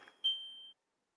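An alarm gives a single electronic beep, a clear high tone lasting about half a second in otherwise quiet surroundings.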